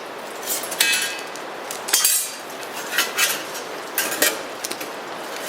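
Metal parts of an Onetigris Rocuboid camping stove clinking and clattering as they are fitted together, a series of close, bright taps and scrapes at irregular intervals.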